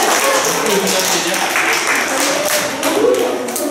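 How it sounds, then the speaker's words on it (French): Children in a classroom clap for themselves after everyone is elected to a children's municipal council, a dense steady patter of many hands filling the room with no pauses. "Donc vous pouvez vous applaudir."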